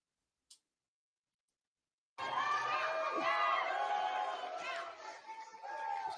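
A large CPAC audience cheers and shouts loudly for a speaker. The roar starts abruptly after a short silence with a single click, holds steady, then dips and swells toward the end.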